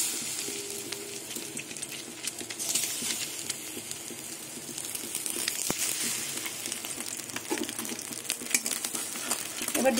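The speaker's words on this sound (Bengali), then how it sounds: "এবার হাঁসের ডিমগুলো তেলে দিয়ে দেবো।" Duck eggs fry in hot mustard oil, a close, continuous crackling sizzle with scattered sharp pops and a few metallic clicks, steady in loudness for the whole stretch with no voices.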